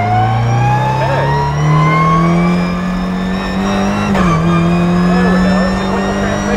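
Toyota GR86 Cup race car engine accelerating hard from inside the cabin, a loud continuous rising drone with a quick sequential gearshift dip near the end before pulling again.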